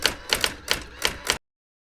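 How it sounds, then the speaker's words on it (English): Keyboard typing sound effect: short bursts of rapid clacking keystrokes in six quick clusters, crisp and close, then abrupt silence. "He'd tap on a keyboard with his stocky feet, a furry typist with a deadline to meet."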